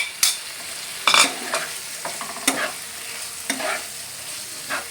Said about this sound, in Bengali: এখন সোয়াবিনটার সঙ্গে ভালো করে একটু কষিয়ে নেবো